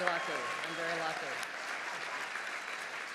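Audience applause at the White House Correspondents' Association dinner, a broad steady wash of clapping that fills the whole moment, with a voice talking briefly over it near the start.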